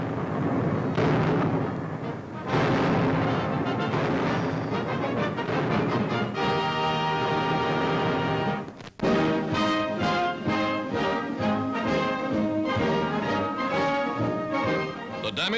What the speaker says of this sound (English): Artillerymen back up the infantry, blasting the Japs from the island.